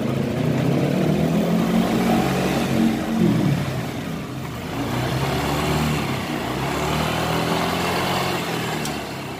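A Yamaha NMAX scooter engine running rough, revved steadily and loudly up close with a continuous droning hum that rises and dips slightly over several seconds, no talk.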